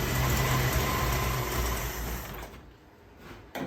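An AMC Eagle engine runs with a loud, steady buzzing drone, then drops away abruptly near the end with a brief final burst.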